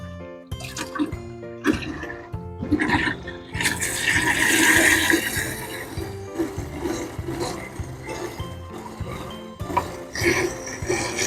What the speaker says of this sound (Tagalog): Dagdagan lang natin ng tubig.